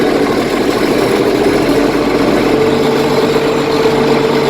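A farm tractor engine idles with no load, heard from inside the cab as a steady, continuous low hum and rumble with a faint tonal drone throughout and no voices.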